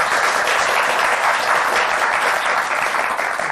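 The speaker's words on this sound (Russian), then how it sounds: "Ваши аплодисменты." A lecture audience breaks into steady, dense applause to welcome a hieromonk guest speaker, loud and sustained throughout with no gaps.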